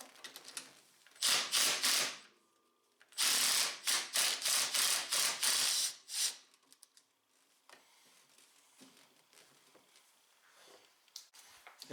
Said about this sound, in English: Go ahead and remove the 10mm bolt that holds your brake reservoir on.